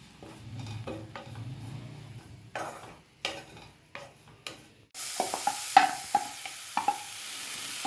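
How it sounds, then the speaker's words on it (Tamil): Grated coconut sautéed and stirred in oil in a pan, with scraping spoon strokes at first, then a steady soft sizzle punctuated by repeated light metallic taps. "இப்போ தேங்காயை முதல்ல நம்ம வதக்கிறோம். தேங்காய் லேசாக வதக்கிக்கலாம்."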